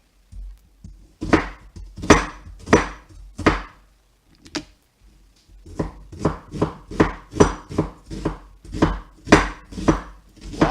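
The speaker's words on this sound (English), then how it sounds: "And the rest of that other onion." An onion being chopped on a cutting board with a knife, a run of crisp close knocks in uneven bursts, several quick strokes at a time with short pauses between.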